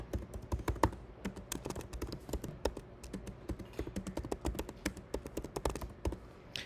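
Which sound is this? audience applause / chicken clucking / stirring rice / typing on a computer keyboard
typing on a computer keyboard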